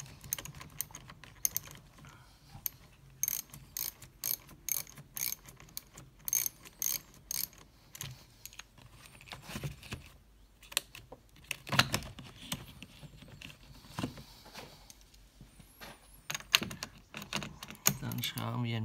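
A wrench ratchets off the positive battery terminal on a Seat Leon Cupra during a start-stop battery swap, producing rapid clicking pawl bursts and metallic clinks up close, with someone speaking now and then between them.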